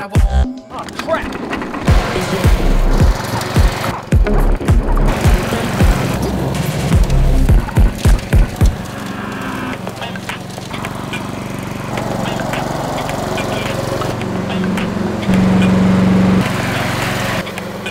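A lawn mower engine runs loudly and continuously near the listener, with a series of heavy thumping knocks through the first half before settling into a steady drone.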